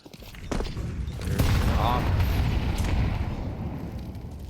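A grenade detonates in a Counter-Strike match, a heavy boom with a rumbling tail that lingers over the game's background noise, fairly loud and close.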